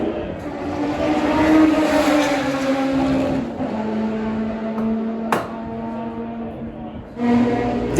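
A 1960 Ferrari 246 Dino front-engine Grand Prix racing car roars steadily at a race meeting at Donington, its engine note shifting pitch as it revs, with a sharp click midway and a brief surge near the end.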